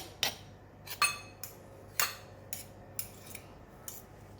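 Salted black bean paste spooned into a bowl: about eight crisp metallic clinks and taps of a utensil against the bowl, spaced roughly every half second, close and clear over a quiet background.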